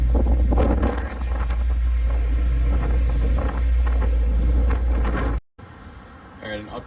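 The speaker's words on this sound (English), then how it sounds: "is so windy that the wind is blowing the sand that's dry onto the wet sands" Strong wind buffets the microphone on a beach with dry sand blowing onto wet sand, a loud, steady low roar that drops away abruptly near the end, leaving quieter wind.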